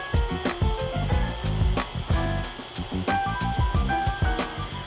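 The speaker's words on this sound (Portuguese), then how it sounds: "Velocidade mínima para também não expulsar da batedeira e voar para todos os lados as farinhas." A stand mixer on its lowest speed churns sugars and almond flour for a banana banoffee pie, a close, steady mechanical whir layered with rhythmic clunking and rattling knocks from the bowl and beater.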